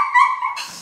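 A dog gives one short, sharp bark, close and loud, with a whiny tonal edge and no talking.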